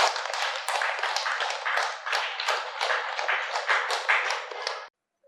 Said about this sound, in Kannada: ಕೃಷ್ಣಪ್ಪ ಸರ್ ಅವರಿಗೆ ಜೋರಾಗಿ ಒಂದು ಚಪ್ಪಾಳೆ ಹೊಡೆಯೋಣ.